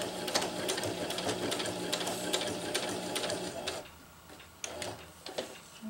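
Sewing machine stitching tie-out tabs on a jungle hammock, a fast rhythmic ticking run of needle strokes for several seconds, then a pause and a few brief single stitches, fairly faint.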